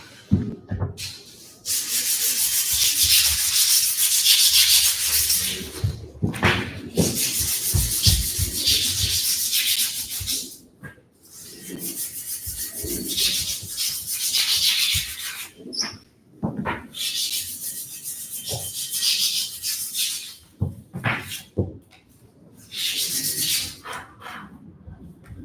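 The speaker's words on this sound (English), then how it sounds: "We'll need to clean the handles a bit." Rusty cast iron kettlebell handles are cleaned with repeated abrasive rubbing and scrubbing strokes in bursts, some long and some short, close and fairly loud, with pauses in between.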